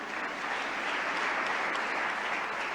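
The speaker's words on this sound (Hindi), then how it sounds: "उनके लिए ताली बजाओ" Steady, dense applause from an audience honouring meritorious 12th-grade students at a government event in Bhopal, filling the whole stretch evenly at moderate level with no voices on top.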